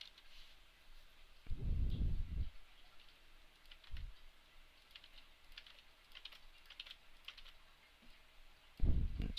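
A computer keyboard being typed on, with soft, sparse clusters of key clicks heard close up. A few low thumps and bumps break in at scattered moments.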